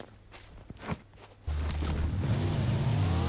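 Quiet footsteps and shuffling give way to a car engine starting up and humming steadily, close and moderately loud, in a video game on the Miramar map.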